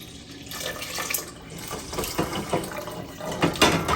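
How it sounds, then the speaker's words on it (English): Water running from a kitchen tap and filling a measuring cup while three cups are measured out for Pakistani rice, a steady splashing stream with small surges in level, close and alone without talk. "And I measure out 3 cups of water"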